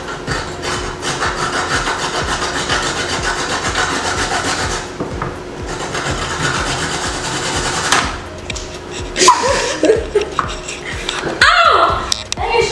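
Carrots being shredded on a grater in a home kitchen: steady, rough rasping strokes run continuously and loudly for several seconds, followed by a few clatters and scrapes.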